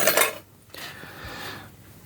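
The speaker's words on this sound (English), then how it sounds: "Stainless steel knife." A stainless steel knife, apparently a multi-tool blade, clinks and rattles briefly against metal, with a bright clatter at the start and softer scraping handling after.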